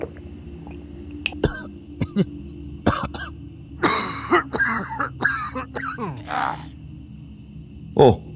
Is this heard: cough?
yes